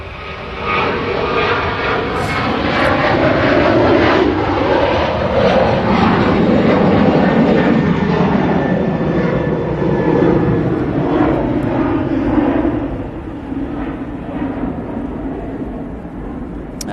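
A Boeing 747 cargo jet passes high overhead at around 30,000 feet, giving a loud, broad, continuous rumbling roar that swells and then slowly fades.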